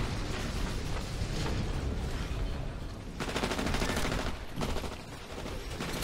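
Gunfire in the Titanfall video game, dense rapid automatic shooting and bursts running almost continuously, loud and close, with heavy blasts mixed in.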